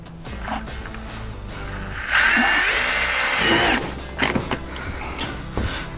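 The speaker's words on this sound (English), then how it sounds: "then we go through and screw the piece off" A power drill driving screws into a panel, whirring loud and close in one sustained burst of about a second and a half, with quieter shop clatter before and after.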